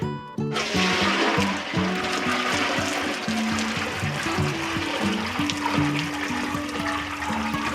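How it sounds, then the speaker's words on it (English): Warm water poured from a bucket for a shower in Botswana, a loud continuous close splash and gush that starts abruptly and runs under steady background music. "Bucket with warm water."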